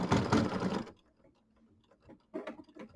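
Embroidery machine stitching a tiny decorative triple stitch, a dense whirring burst at first, then quieter sparse ticks and a short final burst of stitching.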